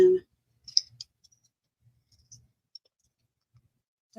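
A few quick, crisp scissor snips and clicks thinning craft material, spaced out over a few seconds, close and fairly quiet, with a brief voice at the start and end.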